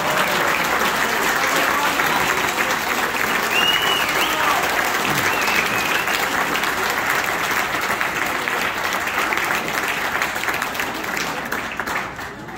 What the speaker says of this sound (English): I think Ioanna got more applause.